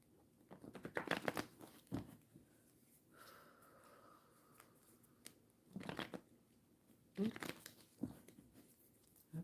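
Playing cards are shuffled for a tarot-style reading, with bursts of quick riffling and flicking close by, separated by quieter pauses.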